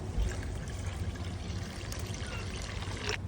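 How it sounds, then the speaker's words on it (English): Water is poured into a pot of canned coconut milk, a steady, faint splashing stream running for a few seconds in a kitchen. "And then we're going to also add some water to this."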